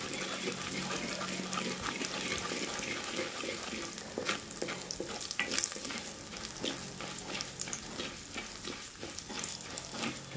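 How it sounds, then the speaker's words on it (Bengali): Biri dal, urad lentils, frying and being stirred in smoking hot oil; a dense continuous sizzle with scattered crackles and scraping strokes, fairly quiet and close, with no talk. "বিরির ডালটা ভাজা হবে।"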